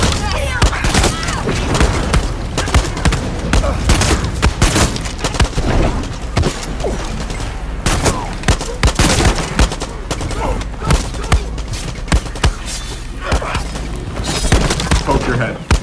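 Rapid gunfire and booming shots crackle densely from a Far Cry 6 firefight, loud and nearly continuous, with voices heard underneath at times.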